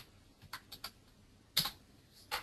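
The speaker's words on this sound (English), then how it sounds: "So I'm typing in my ISBN" Keys tap on a computer keyboard as an ISBN is typed in, a few soft clicks followed by a louder burst of keystrokes, close and alone without talk.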